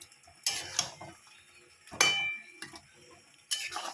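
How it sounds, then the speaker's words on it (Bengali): A pot of chicken curry is uncovered and stirred, with sharp metallic clinks of a lid and spoon against the pot in a few separate bursts, close and clear against a quiet kitchen background. "আবার চাপা খুলে একবার নেড়ে দিলাম।"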